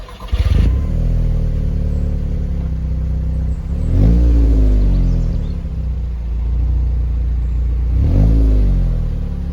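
A manual-gearbox Audi S3 8P with a turbo four-cylinder pulls away, its engine revving up three times in rising pulls with gear changes between, loud and close, no talk.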